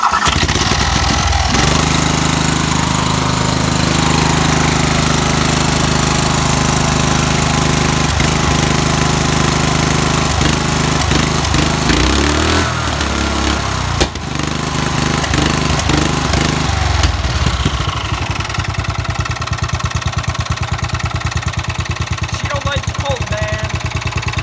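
A Murray lawn mower's small engine, primed and choked, is cranked from cold and roars into a loud, steady run with a rough, pulsing tone that lasts the whole stretch, wavering briefly partway through.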